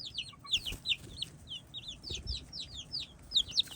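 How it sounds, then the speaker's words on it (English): Young hatched chicks and adult chickens peep and cluck in quick, repeated high chirps close by, with soft rustling beneath during a chick introduction to the flock. "And these are the chicks that I hatched."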